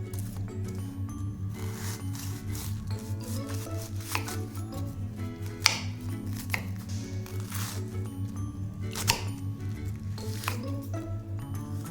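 A knife chops through cabbage on a cutting board in a quiet kitchen, giving a series of soft, crisp cuts at an irregular pace with a few sharper strikes, under a low steady background hum.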